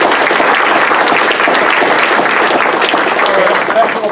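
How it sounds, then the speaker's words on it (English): Loud, steady applause from a conference audience, dense clapping filling the whole stretch without a break. "All right, big round of applause for Steve"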